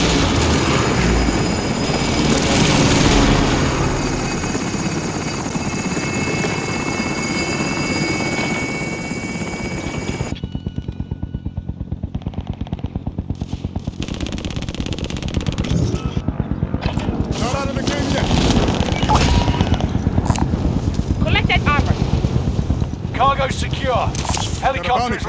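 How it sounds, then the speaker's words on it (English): A helicopter in a combat video game thumps with steady rotor beats and engine whine, loud at first, then fading and returning amid gunfire and in-game voice chatter. "Helicopter's leaving the AO."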